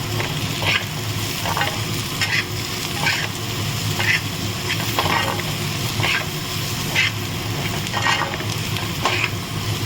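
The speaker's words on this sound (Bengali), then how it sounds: "ভালো করে এটা মিলিয়ে নেব" Turmeric, chili powder and salt are stirred in a frying pan, with rhythmic spatula scrapes repeating about every second over a constant close sizzle.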